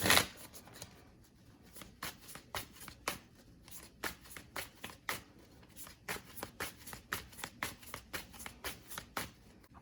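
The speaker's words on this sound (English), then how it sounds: "So initially I'm going to pull some cards." Tarot cards are shuffled and drawn by hand, giving a steady run of crisp, close flicks and slaps repeating at a regular pace for several seconds.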